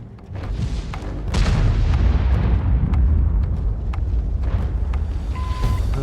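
The Conqueror Gun Carriage artillery piece fires in a tank video game on the Redshire map: one heavy boom, followed by a long, rolling low rumble that fades slowly, with a faint click of game interface near the end.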